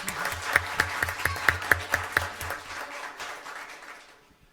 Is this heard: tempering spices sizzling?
no